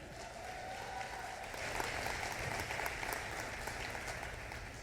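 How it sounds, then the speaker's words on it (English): Audience applause at an opening day event, a broad wash of clapping from a fairly distant crowd that swells slightly midway and carries on steadily. "Give me a round of applause."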